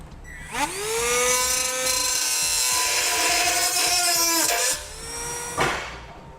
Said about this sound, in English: I'm just going to be using a rotary tool, and you want to just cut that notch out